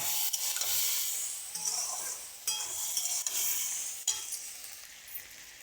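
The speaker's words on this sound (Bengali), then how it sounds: "ওইগুলো দিয়ে দেবো, দিয়ে একটু ভালো করে ভেজে নেব।" Ground spice paste of coriander, ginger and garlic frying in a pan for a cauliflower-stalk dish, a steady bright sizzle with soft stirring scrapes and occasional utensil clinks, close and continuous with no talk.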